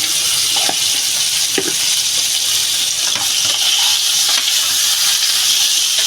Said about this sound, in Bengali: বন্ধুরা এটা ভালো করে এবার ভাজবো আমি